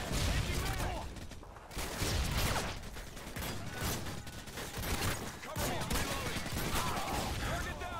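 Bursts of gunfire from Modern Warfare 2 (2009) on Xbox, loud rattling volleys and explosions coming in dense waves with a brief lull, amid chaotic battle noise.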